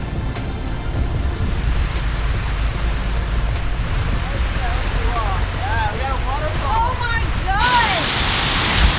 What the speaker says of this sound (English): It's a waterfall there!